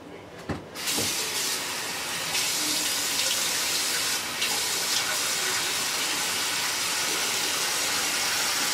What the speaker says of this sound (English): I'm going to rinse my face with some warm water to open up my pores